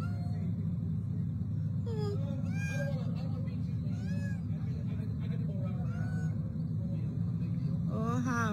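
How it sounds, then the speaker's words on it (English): Small cat trapped in floodwater meows repeatedly, thin rising cries heard over a constant loud rumble of rushing water, with people talking nearby. "It's a little cat right there, spent all night, because we can't get it out."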